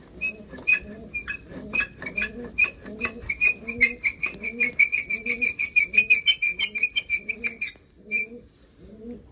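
Pigeons coo in a steady, repeating rhythm nearby, with light chirps and flutters mixed in before the cooing fades.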